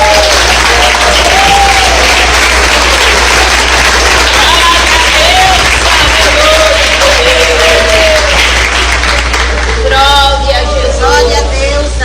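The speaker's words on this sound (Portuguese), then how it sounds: "podem glorificar a Deus com as palmas" Congregation in a church clapping in praise during a Portuguese-language service, a steady dense applause filling the room with crowd murmur and some voices over it, strongest toward the end.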